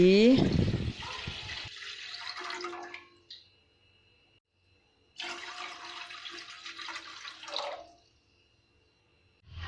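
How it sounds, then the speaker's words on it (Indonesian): About a litre of water is poured into a cooking pot while making Palembang pindang with smoked baung fish, a loud splashing pour at the start that trails off, then a second stretch of pouring and trickling later. "tambahkan air sekitar 1000 ml"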